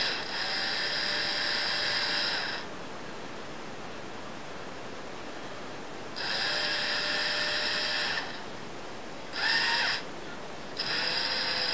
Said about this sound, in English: my little screw gun,